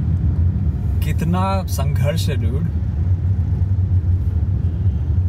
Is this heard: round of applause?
no